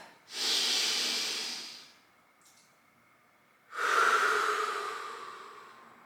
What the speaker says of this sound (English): Let's do one more deep breath.